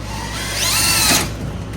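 A power drill whirs up to speed as it drives a half-inch self-tapping screw on an EZGO TXT golf cart, rising in pitch and cutting off after about a second, close and loud.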